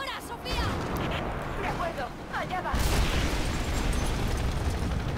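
An explosion goes off near a helicopter in the video game Rise of the Tomb Raider, a loud broadband blast that swells midway and rumbles on under excited talking.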